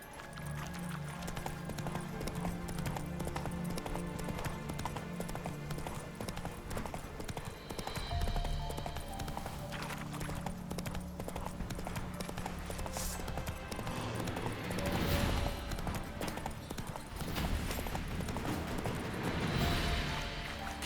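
Roach, the horse in The Witcher 3, gallops with steady, continuous hoofbeats at close range under game music and ambience, the rapid rhythm running throughout.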